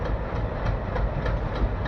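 An Alco diesel locomotive hauling the Sealdah–Puri Duronto Express rolls into Puri station at dawn, a steady low rumble with faint rhythmic rail clatter, continuous and fairly loud, no voices.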